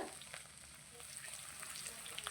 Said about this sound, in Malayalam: കടുക് പൊട്ടി വന്നതിന് ശേഷം നമുക്ക് ഇഞ്ചി വെളുത്തുള്ളി പച്ചമുളക് ഈ ഐറ്റങ്ങളൊക്കെ ഇട്ട് നല്ലപോലെ ഒന്ന് മൂപ്പിച്ചെടുക്കാം